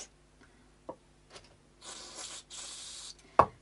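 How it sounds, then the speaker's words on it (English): Short hissing bursts of contact cleaner sprayed into crackling, gungy potentiometers on a Vester Stage Series Tele guitar, two sustained sprays with soft clicks and knocks before and a sharp tap at the end. "crackling pots, you really have to turn them as well as spray them."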